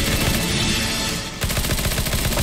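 Gunfire in CS:GO Zombie Escape plays as loud, rapid automatic bursts, with a short dip before dense, rhythmic shots resume.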